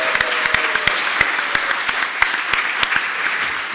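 Audience applause fills a seminar room at a drinks-chemistry talk, a steady crowd of many hands clapping with sharp individual claps standing out, fairly loud and continuous for the whole stretch with no talking over it.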